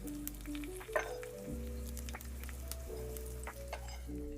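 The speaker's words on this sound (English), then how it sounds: "Ooh, you can hear it sizzle." Chopped onion and green pepper for black beans and saffron rice sizzle in hot oil in a pan on a home stove, a steady soft hiss with a few clinks of utensil against pan, while a low hum runs underneath.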